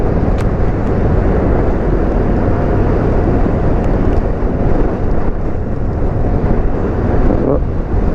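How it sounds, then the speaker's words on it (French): Strong, steady wind buffeting the microphone while riding a Buell motorcycle along open harvested farmland in northern France, a dense broadband rush holding level and unbroken from start to finish. "S'il y a le bruit du vent, ça sera le vrai vent, hein."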